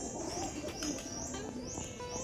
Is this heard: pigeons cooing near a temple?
yes